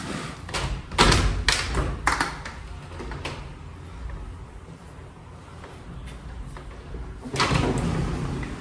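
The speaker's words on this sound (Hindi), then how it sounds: "दरवाज़ा खोलता हूँ" At a hostel, a door is opened with a few sharp knocks and thuds of the handle and latch, then a sliding rumble and a final thump, fairly close and loud with no talk over it.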